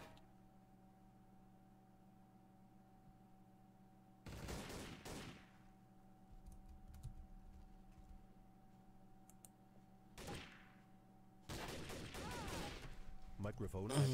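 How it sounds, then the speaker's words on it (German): Gunfire in the video game Trouble in Terrorist Town, with three bursts of loud shots. The bursts are separated by quieter stretches over a steady low game hum, and faint clicks and voices appear in between. "Auf den Boden geschossen."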